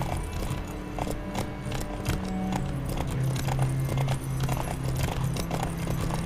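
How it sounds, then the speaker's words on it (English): A horse's hooves clip-clop at a steady walking rhythm in The Witcher 3: Wild Hunt, with close, regular strikes and a low ambient hum under them and no voices. "Of course, the name of the horse is Roach."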